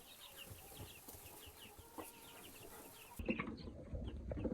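Chicks peep in a busy, high-pitched chorus nearby, with soft pecking taps and shuffling as they peck at food and drink water; the sound shifts abruptly partway through.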